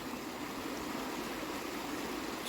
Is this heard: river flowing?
yes